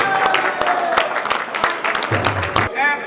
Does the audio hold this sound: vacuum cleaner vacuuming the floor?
no